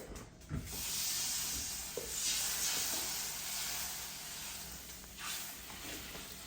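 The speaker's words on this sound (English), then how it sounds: "deglaze that pan" High carbon steel pan deglazed while hot after a keto stir-fry of bacon, mushroom, cabbage and onion, giving a steady close hissing sizzle with a few brief bursts, lasting several seconds without talk.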